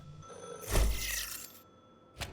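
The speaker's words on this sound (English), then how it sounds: "I also hear the phone ringing." In The Last Caretaker video game, a telephone bell rings in a bright, noisy burst that fades out, then gives a short second ring at the end, with no talk over it.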